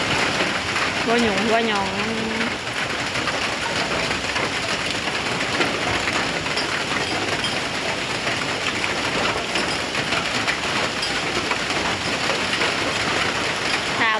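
Steady heavy rain hisses and patters on surfaces beside a chicken coop in a rural garden, a dense continuous wash throughout, with a brief voice speaking early on under the downpour.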